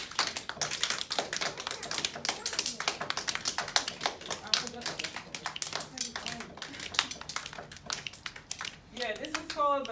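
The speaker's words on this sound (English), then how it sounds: "Let's clap while he's playing." A group claps steadily in quick rhythm, close and loud, with voices chattering through it.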